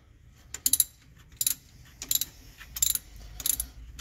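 A ratchet wrench loosens the water pump bolts on a Continental IKA 6 engine in a Kaiser Carabela, giving four quick bursts of bright metallic clicking, each a rapid run of ratchet ticks, close by with no talking.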